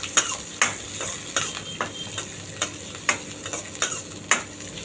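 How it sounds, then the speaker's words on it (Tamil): Chopped onion with curry leaves sautéing in a pan for a sweet potato masala fry, a steady sizzle broken by repeated sharp scrapes and clinks of a spoon stirring against the metal, close up with no talking. "ஒரு வெங்காயம் வெட்டினது, வெங்காயம் நல்லா வதங்கணும்"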